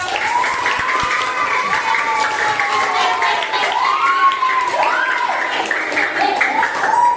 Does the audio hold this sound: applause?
yes